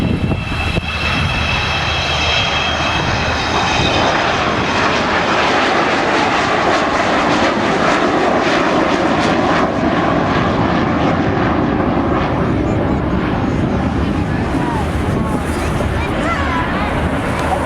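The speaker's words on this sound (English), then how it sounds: "Coming round now for a dirty pass with the gear down." Avro Vulcan XH558 bomber making a low flypast with landing gear down at RNAS Culdrose, a loud, broad jet roar that swells and holds steady before fading slightly, with wind buffeting the microphone.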